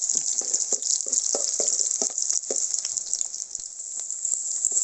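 Steady bright sizzle of shallots frying in hot oil, with repeated soft scraping stirs against the pot throughout.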